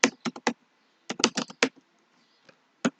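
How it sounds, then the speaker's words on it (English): Quick clusters of clicky keystrokes close by, a burst of typing, a pause, then another burst and a few lone taps. "I'm just typing gradient for now"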